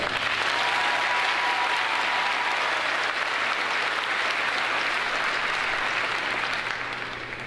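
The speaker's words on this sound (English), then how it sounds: "If we could take a moment and give them a round of applause." Graduation ceremony audience at a 2022 high school gives a sustained round of applause, dense and steady clapping from a large crowd that tapers slightly at the end.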